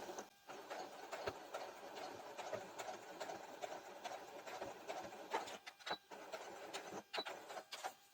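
A sewing machine stitches through two layers of denim with a soft, continuous mechanical whir. Several brief pauses and restarts break it up, and it stays fairly faint and close, with no talk.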